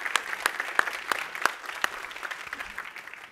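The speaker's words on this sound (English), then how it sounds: "Let's give a round of applause to Federico and all of our, right." Applause from the audience at a live interactive magic panel with Penn Jillette at E3 Coliseum, with several sharp claps standing out near the start before the clapping thins and fades.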